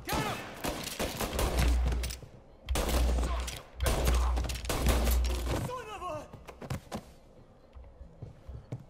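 Gunfire in the Mafia video game: rapid bursts of loud shots rattle in three clusters, then fade to scattered lighter pops and thuds, with shouted voices mixed in among the shooting.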